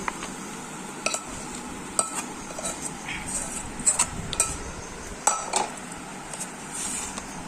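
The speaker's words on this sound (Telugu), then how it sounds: "ఇవ్వండి సర్వింగ్ ప్లేట్లోకి వేస్తున్నాను ఈ చికెన్ ఫ్రైని." Chicken fry scooped from a pan onto a serving plate: light metallic clinks and scrapes of a spoon against cookware, scattered and irregular, fairly quiet over a soft background hiss.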